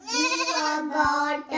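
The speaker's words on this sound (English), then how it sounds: "G for goat." Goat bleating in a children's alphabet song: a single sustained, wavering bleat with a brief pause and a short second bleat at the end, close and loud.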